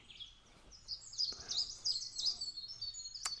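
Several birds sing outdoors in a series of bright, high chirps and warbling phrases, fairly close and steady over a quiet background, with one sharp click near the end.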